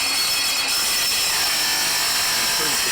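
A saw blade lubricated with WD-40 cuts through an insulated steel roof panel, a loud, steady, harsh grinding roar that runs without a break.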